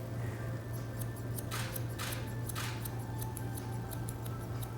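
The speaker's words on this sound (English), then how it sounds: "Point cutting for dry cut is good because it's easy to blend in" Salon scissors point-cut dry, long-layered Asian hair, giving a series of crisp, close snips in quick clusters over a steady low hum, with no talking.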